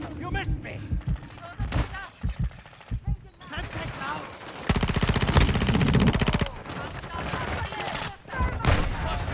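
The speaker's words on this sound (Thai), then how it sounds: "โอ้ใครยิงวะ" Video game gunfire crackling in rapid automatic bursts and single shots, with a sustained stretch of machine-gun fire in the middle, mixed with excited voices talking over the shooting.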